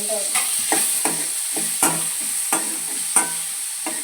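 Onion and tomato sautéing in a pan with a steady sizzle, broken by several sharp scraping stirs of a spatula spaced roughly every half second to second; close and fairly loud, with no talking.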